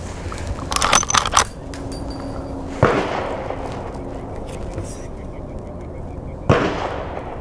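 Gunshots fired at a target, with two sharp, loud cracks several seconds apart ringing out over low background noise and faint talk.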